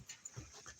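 Pet dogs panting close by in a home, a short quiet burst of breathy rhythmic huffs with a faint whimper.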